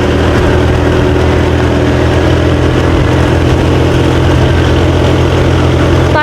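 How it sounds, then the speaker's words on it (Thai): Loud, steady engine drone from a motorbike climbing a steep mountain road in Laos, close and continuous with no break, carrying a rough low rumble throughout. "ตอนนี้แม่นขี่รถนำหน้าของน้องแฟดอยู่เนาะ"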